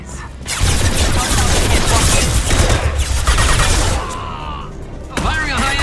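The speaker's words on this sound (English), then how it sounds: "Firing a high-impact shot!" Rapid gunfire bursts in the Mass Effect Legendary Edition video game, a dense sustained volley of shots for several seconds that thins out near the end, with a brief voice line toward the close.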